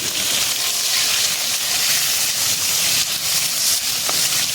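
Pointed gourd dropped into a pan of hot oil after frying fish sets up a loud, dense, continuous sizzle and hiss that stays steady throughout.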